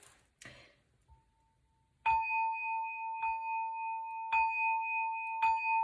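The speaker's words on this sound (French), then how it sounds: "Je vais faire un petit bruit de bol." A bowl is struck four times at a steady rhythm, each strike ringing with a clear sustained bell-like tone, evoking a phone ring; faint taps precede it.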